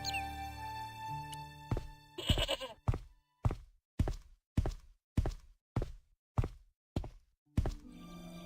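A tethered goat in the video game Broken Sword gives a short bleat, followed by a steady series of hollow thuds spaced about half a second apart.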